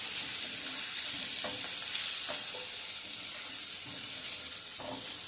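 Stuffed ridge gourd sautéing in a hot pan with spicy masala, a steady loud sizzle broken by a few scraping stirs of a spatula.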